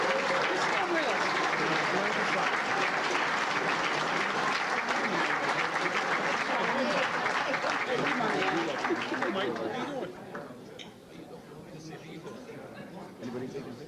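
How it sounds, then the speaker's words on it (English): Crowd applauding athletic hall of fame inductees at a ceremony, a dense, steady wash of clapping with voices mixed in that thins out near the end. "I'd like y'all to give them one more great big round of applause"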